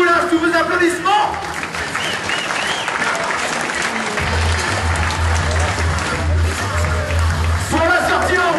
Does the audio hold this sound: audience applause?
yes